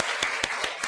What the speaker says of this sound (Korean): 우리 박수 한번 격려하십시다